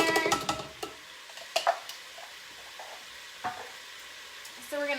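Onion tossed into a pan of frying ground beef brings a burst of clattering and scraping, then a soft, steady sizzle with occasional clinks of the utensil, picking up again at the end.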